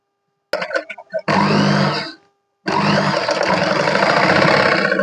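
Sewing machine running in two bursts while stitching hem tape onto a blouse, a steady motor whir lasting about a second then two seconds after a pause, preceded by light handling clicks.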